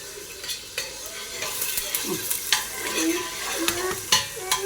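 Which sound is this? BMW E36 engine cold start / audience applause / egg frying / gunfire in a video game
egg frying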